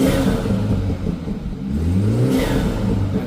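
A 2018 BMW 430i with a newly installed JB4 tuner runs steadily nearby, its engine note rising and swelling as it is revved, a continuous mid-low rumble with no talk.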